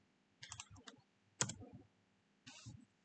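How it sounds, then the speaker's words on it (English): Fingers tap a computer keyboard in short quiet bursts of clicks with brief pauses between them, close and fairly faint, and a voice speaks softly in the background. "come on, let me type"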